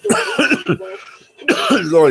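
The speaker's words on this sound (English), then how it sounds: "Sorry about the cough. I got it pretty bad." A few harsh coughs and throat clearing right up close, then a voice briefly follows.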